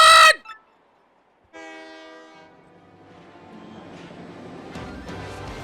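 Luxury train departing in the Paper Mario video game: a loud horn blast opens, then after a short silence a whistle-like chime sounds, followed by building rumble and clatter of the train pulling away.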